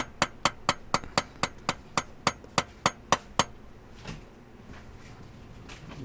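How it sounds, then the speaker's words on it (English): Metal hammer blows on an aluminum punch rod knocking the 5th gear transmission cover off a 2005 Scion xB, a rapid even series of about fourteen sharp close taps, then quiet shop ambience. "take a punch and a hammer to smash the cover off"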